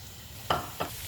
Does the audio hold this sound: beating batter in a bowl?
no